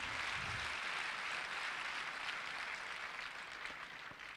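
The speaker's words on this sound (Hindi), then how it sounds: "ताली बजा रहा था, जोर से बजाइए थोड़ा" Audience applause fills the space, a steady dense wash of many hands clapping together, fairly distant and even throughout with no pause.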